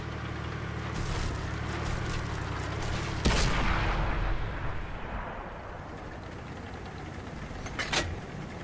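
A tank cannon fires in World of Tanks, one heavy boom landing after a low rumbling engine drone, then a long decaying tail and a fainter thud near the end.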